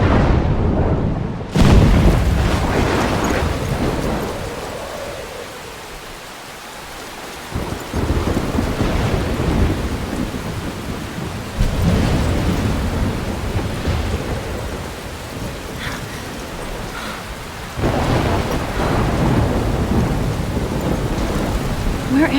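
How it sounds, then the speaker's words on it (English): Thunderstorm with heavy rain in the video game Life is Strange: steady loud rainfall with deep rolling thunder rumbles and crashes swelling at several points, no voices. "That thunder still gets me every time."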